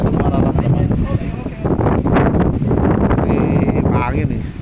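Wind blowing high up on a construction site, buffeting the microphone in loud gusty rushes while someone talks over it.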